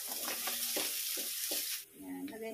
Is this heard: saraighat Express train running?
no